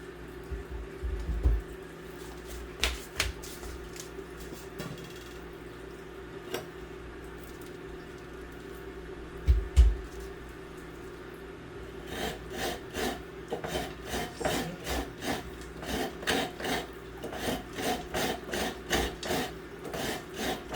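Fresh coconut being grated by hand on a manual grater makes rough rasping scrapes, sparse at first with a few thumps, then settling into a fast, regular series of strokes close by.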